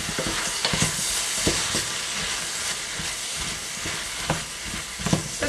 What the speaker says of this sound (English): I'm going to fry these now for about 5 minutes or so.